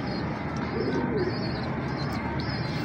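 Soft pigeon coos murmur close by amid a steady background hum, low and rounded, with faint chirps above.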